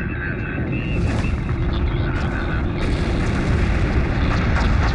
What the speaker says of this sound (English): Prepare for immediate surface bombardment.